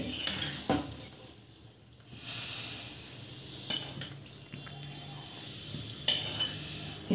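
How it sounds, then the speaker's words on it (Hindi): Oil being mixed into flour with a metal spoon in a bowl for khasta namak pare dough, giving scattered scraping and clinking strokes with a few sharper clinks, close and moderately quiet, with no talk. "इतना हम डाल देते हैं और मिक्स कर लेंगे चम्मच से"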